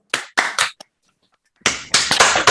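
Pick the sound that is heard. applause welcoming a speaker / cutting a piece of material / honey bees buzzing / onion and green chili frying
applause welcoming a speaker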